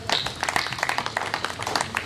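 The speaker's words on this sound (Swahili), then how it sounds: "mpigeni makofi anapokuja" An audience at a SACCO annual general meeting claps for the supervisory chair, a quick, steady patter of many hands at moderate loudness.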